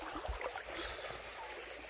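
A river in a Northeast Indian forest village flows with a soft, steady rushing wash. It is faint and even throughout, with no voices.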